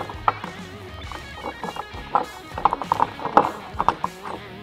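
A ratchet tightens nuts onto bolts while a rear windshield is mounted on a Honda Talon 1000X-4 UTV, giving close, quick bursts of clicking strokes with brief pauses between them.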